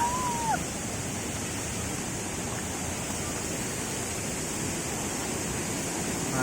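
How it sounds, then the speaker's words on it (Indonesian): The Curug Goong waterfall in Pandeglang gives off a constant, full roar of rushing water, an even broadband hiss with no pauses or other sounds over it. "Nah itu dia untuk curugnya, curug bohong"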